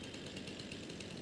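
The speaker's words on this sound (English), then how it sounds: "Get the chainsaw running." A chainsaw runs in Farming Simulator, a steady buzzing motor drone with a faint rhythmic pulse, continuous and fairly quiet with no talking.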